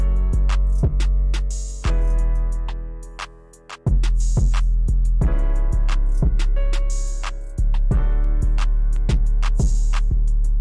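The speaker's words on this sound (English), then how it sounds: "And then lastly, I added a kick, which sounds something like this." Kick drum layered into an FL Studio trap beat with a deep 808 and bright melody, punchy kicks landing in a regular pattern, the loud full mix briefly thinning out between sections, no voices.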